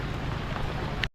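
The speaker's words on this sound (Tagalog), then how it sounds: "Lakas ng ulan." Heavy rain pours down in a dense, steady hiss of drops beating on surfaces, close and continuous, with no voices, until the sound cuts off sharply.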